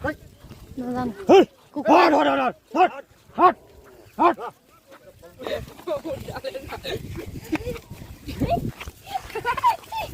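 A dog barks several times in quick succession, loud and close, followed by a noisier stretch with voices talking and background commotion at a Goru Bihu celebration in Assam.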